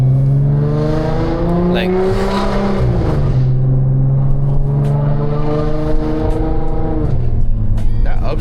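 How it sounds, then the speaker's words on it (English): An Audi with about 100,000 miles shifts up under acceleration, its engine note steady and then dropping as the gear changes, heard from inside the car under a person talking. "that upshift sounded pretty nice"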